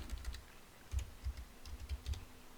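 Typing on a computer keyboard while entering a folder path, clusters of soft keystrokes in short bursts with pauses between, close and quiet, no talking.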